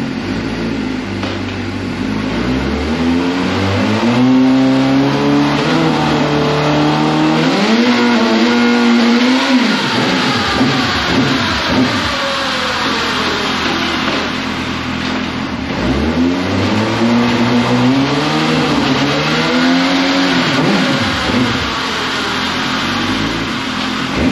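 A motorcycle fitted with a shifter kit runs on its stand in a static test, its engine revving loud and close in long rising and falling sweeps as it climbs through gears, with no talking.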